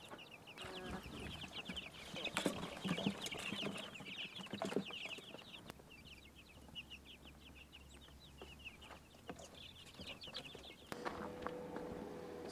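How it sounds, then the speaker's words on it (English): Chickens, including small baby chickens, cluck and chirp steadily on a farm, a continuous, faint chatter of many birds with scattered knocks and outdoor background noise. "He's tending to his little baby chickens there."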